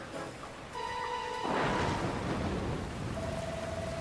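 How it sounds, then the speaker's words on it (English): Rain pours and thunder rumbles during a storm in the video game Dragon Quest Builders 2, a steady wash of rainfall that swells with a low rumble partway through, over soft tonal game music. "Huh? Where'd this rain come from? You'll have to tell me later, laddie. Looks like there's another storm rolling in."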